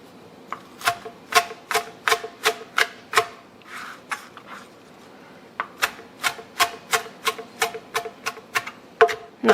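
Knife chopping fresh basil, parsley, thyme and oregano on a board: a quick series of crisp, close, regular chops, a brief pause with a softer rub, then another steady run of sharp cuts.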